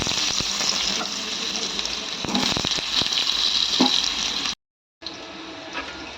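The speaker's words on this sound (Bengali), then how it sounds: "এবার তেল গরম হয়ে গেছে। এই যে আলুগুলো দিয়ে দিচ্ছি।" Potatoes dropped into hot oil in a kadai, a dense steady hiss and crackle of frying with a few clattering knocks, carrying on after a brief cut-off.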